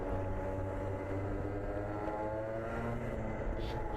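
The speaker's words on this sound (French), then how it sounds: "je regarde derrière moi, j'entends le moteur et c'est Eric Joss qui est derrière moi" A two-stroke racing kart engine of a rival running close behind during a sprint race at Salbris, a steady buzzing drone with layered engine tones throughout, fairly loud and continuous with no talk.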